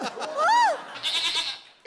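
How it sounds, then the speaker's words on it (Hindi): A young goat kid lets out one loud, quavering bleat close by, followed by brief laughter from a crowd at a comedy stage show. "ये बकरी का बच्चा कहाँ से आ गया बीच में?"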